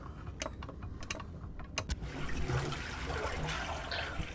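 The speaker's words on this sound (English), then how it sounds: "The water. It's going down." Water drains away in Prince of Persia: The Sands of Time, starting with a few mechanical clicks before a steady rushing, gurgling flow takes over at moderate volume.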